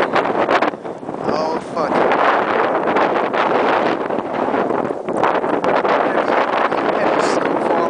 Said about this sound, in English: It's so far strong wind.